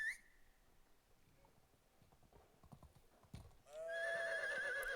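Horse hooves clip-clop softly in the medieval farming game Medieval Dynasty, followed by a loud, close whinny that rings out over the final second.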